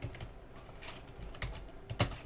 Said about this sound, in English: Yes, this is me typing, not for effect.